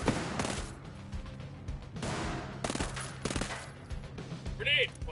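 Gunfire erupts in Ghost Recon Breakpoint, several loud bursts of automatic rifle fire crackling in quick succession with sharp reports between them, and a brief electronic tone near the end.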